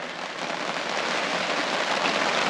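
Steady rain falls at a remote campsite in British Columbia, a dense, even patter on surfaces that continues throughout without pause.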